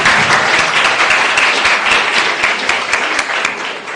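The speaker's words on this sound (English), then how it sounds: "Debaters, let's give them a round of applause, guys." Steady, dense applause from an audience at an inter-school debate, sustained at full strength with many hands clapping at once for the whole stretch.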